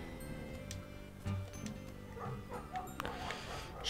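A dog in the game Night in the Woods gives faint whimpers and a few short yips and barks over a quiet background.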